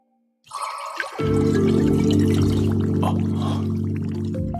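Water summoned by magic in an anime pours out in a strong, steady gushing stream that starts suddenly after a brief splash and continues loud and close to the end.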